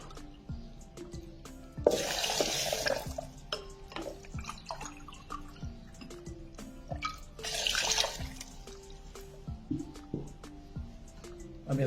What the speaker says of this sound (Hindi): इसके अंदर हम 2 गिलास ठंडा पानी डालेंगे फ्रिज का।